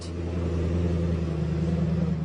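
A fancy car's engine rumbles steadily as it drives toward a parking lot, a low, even motor drone held at close range for the whole stretch, with no talking.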